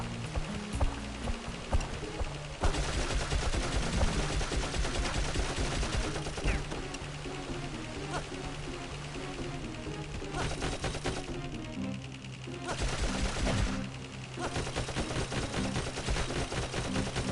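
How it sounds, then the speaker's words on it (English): Rapid gunfire from shooting an enemy in the video game Dark Cloud, dense crackling bursts running almost continuously over a layer of game music, with brief pauses between volleys. "Just shooting him while he's guarding."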